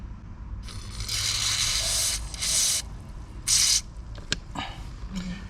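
Fluid Film lubricant sprayed from an aerosol can onto the blower motor of a Nissan Xterra, close bursty hissing in several short blasts of about a second each, followed by a few light clicks and knocks.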